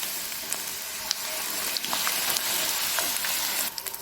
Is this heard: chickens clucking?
no